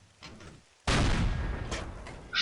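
Gunfire in a war video game: one loud, sharp blast that rings out and decays over about a second after a quieter stretch, with another burst at the very end.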